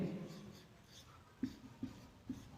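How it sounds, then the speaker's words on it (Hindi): Pen writing out a definition during a chemistry lesson, heard as a few faint soft scratching strokes close by in a quiet room. "तो इसकी डेफिनेशन लिखें हम"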